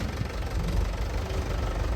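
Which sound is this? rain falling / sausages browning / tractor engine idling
tractor engine idling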